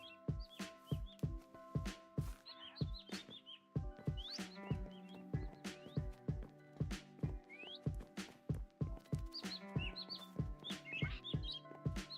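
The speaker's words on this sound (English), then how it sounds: "you do have the new birds in here" Birds in the Minecraft-based Origin Realms game chirp and whistle in short repeated calls over steady game background tones and a regular pattern of soft thuds, with no talking.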